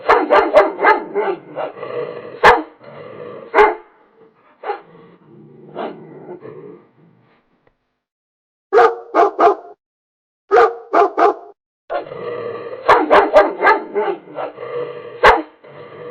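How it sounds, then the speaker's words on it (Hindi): A dog barks loudly in rapid bursts, with yips and whimpers between volleys, pausing briefly before breaking into another frantic round of barking. "उसका कुत्ता जोर जोर से भौंकने लगा"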